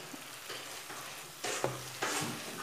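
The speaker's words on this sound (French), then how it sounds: "Je vais les faire revenir encore juste quelques minutes" Tomato and vegetables sautéing in a pan: a steady soft sizzle runs throughout, with a few louder scrapes and stirring bursts near the end, close and fairly quiet.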